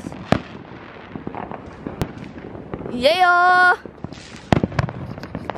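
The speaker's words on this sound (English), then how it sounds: "more fireworks." Outdoor Independence Day fireworks at night in 2021: scattered sharp cracks and pops, a loud rising whistle partway through, then more bangs, with a brief spoken voice nearby.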